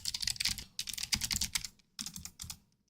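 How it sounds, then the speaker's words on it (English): Typing on a computer keyboard comes in quick, close bursts of key clicks, with short pauses between runs and a final few taps, no voice present. "So I'm just going to type that in and see what happens."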